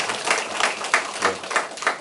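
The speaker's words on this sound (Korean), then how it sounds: "우리 박수로 한번 격려를 해드릴까요?" Applause from a congregation at a Korean temple gathering, a short burst of moderate clapping with soft voices underneath.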